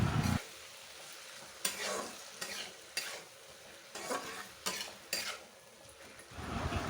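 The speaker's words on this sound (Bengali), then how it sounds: "আমি একদিকে বসিয়েছি কাকুল ভাজা আর চা বসিয়ে দিয়েছি" Teasel gourd slices fry in a pan, a soft background sizzle broken by several sharp scraping stirs and clinks of a utensil against the pan, close by with no talking.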